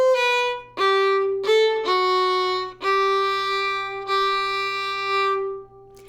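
Solo old-time fiddle bows a short phrase from Going Down to Cairo, about six sustained notes with smooth bow changes, close and bright, ringing alone.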